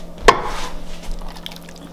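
Creamy chicken spaghetti slides out of a crock pot into a casserole dish with one thick, wet plop, followed by softer squishing and dribbling.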